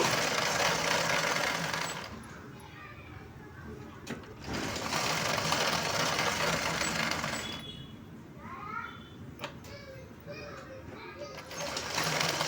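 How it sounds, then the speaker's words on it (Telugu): A sewing machine stitches hip belt fabric in loud continuous whirring bursts, pausing twice briefly, with a person talking during the quieter stretches. "ఈ విధంగా ఒక పాదం ఖర్చుతో ఇంకా చుట్టూ స్టిచ్ చేసుకుంటూ రావాలండి"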